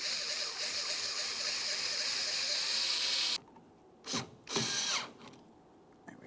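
A power tool whirs steadily while tightening a door handle mounting bolt on a 2014-2018 Mazda 3, then stops, followed by a couple of short bursts of handling noise.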